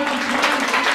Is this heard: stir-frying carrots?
no